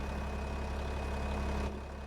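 A vintage harvester engine left idling during a barley harvest, a steady low rumble that holds evenly and then drops slightly in level near the end, with no voices over it.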